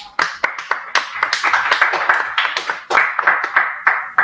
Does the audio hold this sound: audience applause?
yes